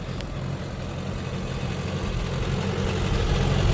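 Daihatsu Fourtrak diesel idling just after a cold start while blowing bluish-white smoke, a steady low rumbling engine drone that holds constant and close, with no talking.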